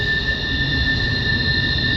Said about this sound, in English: Sorry for the audio again. There's this dang train behind me.